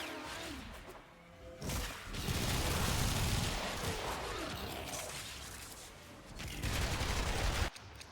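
Rapid automatic gunfire from Mesa's weapon in a video game crackles in long, dense bursts, loud and close, with brief whooshing pauses between sustained volleys.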